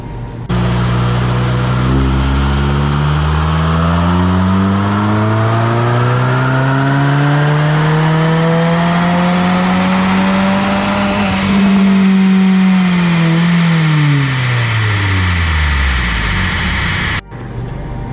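Subaru VB WRX engine revving hard on a dyno, pitch climbing smoothly through the gears to a peak, then winding back down, loud and close before cutting off abruptly.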